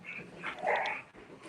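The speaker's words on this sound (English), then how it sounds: "I'm so sorry, Paloma, if my dogs are in the background." Dogs bark and whimper faintly in the background indoors, a short burst of yips and a bark under low room noise.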